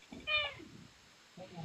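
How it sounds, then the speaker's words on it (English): Cat meowing once faintly at a distance during a quiet paranormal investigation, a short tonal cry amid low murmurs and background rustle. "I just heard a cat."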